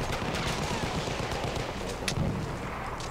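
Gunfire in the video game Battlefield 1, a dense, continuous rattle of shots and distant booms at moderate volume, steady throughout with a slightly sharper burst near the middle.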